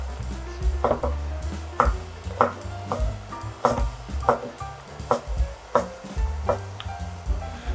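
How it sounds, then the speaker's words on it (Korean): A knife slices king oyster mushrooms into bite-sized thick pieces on a cutting board, giving about a dozen crisp, evenly spaced knocks close up with no talking. "새송이도 썰어주세요. 먹기 좋은 크기로 두께로 썰어줍니다."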